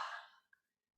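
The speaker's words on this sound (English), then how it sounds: "Here's an exhale." A single soft breathy exhale during a yoga flow, faint and close, fading out over about half a second and leaving silence.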